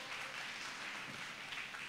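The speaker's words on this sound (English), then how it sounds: "Come on, give God a clap offering." A church congregation at a revival week service gives a brief burst of dense, continuous applause, moderately loud and fairly distant, with no speech over it.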